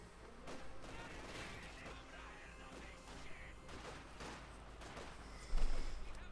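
Heavy machine gun team firing in the Company of Heroes 2 strategy game, rapid bursts of gunfire mixed with distant battle crashes, fairly quiet under a busy battlefield, with a louder impact near the end.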